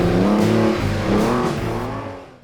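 A Porsche sports car engine revs hard with rising harmonic pitch, loud and close, easing off near the end before a brief thump.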